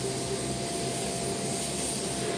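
A Hercules military transport plane lands on an airfield, its engines giving a loud, steady, unbroken roar with no voices over it.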